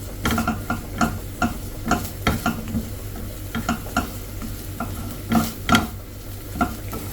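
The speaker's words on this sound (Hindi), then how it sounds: "इनको लो फ्लेम पे भून लेती हूँ कलर चेंज होने तक" Mawa roasting in a pan on a low flame while it is stirred steadily, with a faint sizzle under a run of irregular spoon clicks and scrapes against the metal.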